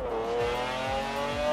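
A McLaren F1 supercar engine driven in the racing game Forza Horizon 4: a steady, loud, sustained engine drone with a clear rising-then-level tone, close and continuous, without speech.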